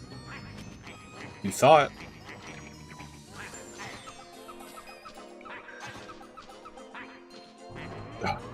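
Cartoonish bird enemies in the Wario World video game quack and honk repeatedly amid game music and effects, with a sharp louder burst early on and someone talking briefly over the action.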